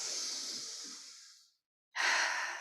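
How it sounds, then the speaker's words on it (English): A deep breath in and out during a seated exercise class for older adults: a long, steady breathy exhale fading to a brief silence, then a strong fresh inhale, close and clear. "Deep breath in and out"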